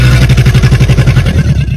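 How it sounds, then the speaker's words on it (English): An alligator makes a deep, rumbling, pulsing growl in a steady throbbing rhythm, loud and close, sustained for nearly two seconds. "Top 4, the alligator."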